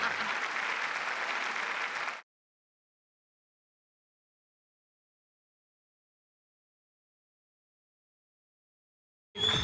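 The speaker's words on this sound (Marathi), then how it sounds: "टाळ्या वाजवूयात." A studio audience on a Marathi comedy show claps in a dense burst of applause for about two seconds, then silence, and the clapping starts up again at the very end.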